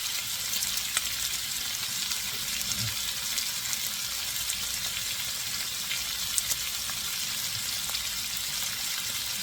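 Pork belly lightly seasoned with salt and ground pepper frying in a pan, a steady close crackling sizzle with scattered pops running evenly throughout, no talking over it.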